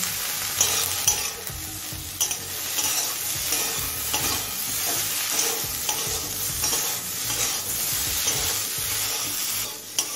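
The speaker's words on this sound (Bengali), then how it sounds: "এবার বেগুনটা একটু সিদ্ধ হয়ে আসা পর্যন্ত ভেজে নেব।" Eggplant fries in a pan with green chillies, turmeric and salt, a steady crackling sizzle broken by frequent scraping stirs, close and continuous.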